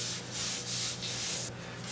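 Close, raspy strokes of sandpaper rubbing a hard oil-based polyurethane finish, back and forth in an even rhythm of about four passes.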